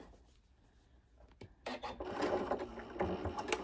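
A Janome M6 sewing machine stitches through the thick layers of a zippered tote bag, starting with quiet handling and then running in a steady, close mechanical whir with a few faint clicks.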